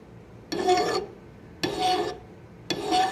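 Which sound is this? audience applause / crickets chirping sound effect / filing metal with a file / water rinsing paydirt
filing metal with a file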